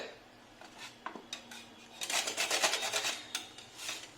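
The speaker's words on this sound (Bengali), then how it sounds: "এবার আমি একটা ঘষার জায়গা নিয়ে পটলগুলোকে" Pointed gourd is rubbed against a metal kitchen grater, scraping strokes that grow denser and louder toward the middle, with light clinks of utensils, close and fairly quiet with no talk.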